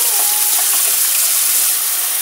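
Raw chicken pieces rinsed under a running kitchen tap, a loud steady hiss of flowing water filling the whole stretch without a break, no talking.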